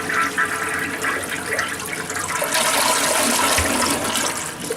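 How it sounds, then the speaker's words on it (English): A real household toilet flushing nearby, a loud continuous rush of water swirling and draining for several seconds with no voices over it. "this is what a real toilet sounds like."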